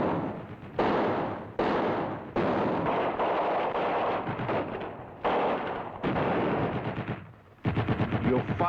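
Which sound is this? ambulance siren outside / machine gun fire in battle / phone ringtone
machine gun fire in battle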